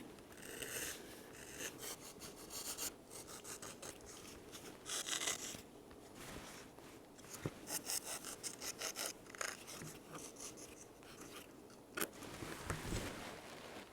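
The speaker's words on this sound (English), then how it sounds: "Finally, we'll bring in a sanding stick and do a final gentle shaping." Sanding stick gently shaping styrene fin fairings on a 1/100 scale Estes Saturn V model rocket, repeated rasping strokes in irregular bursts, quiet and close, no talk.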